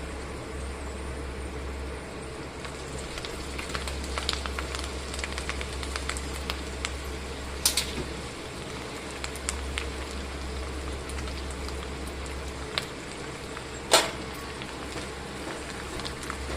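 Gongura leaves dropped into hot oil with fried red chillies, a continuous fine sizzling crackle with scattered sharper pops, steady throughout beneath a low hum.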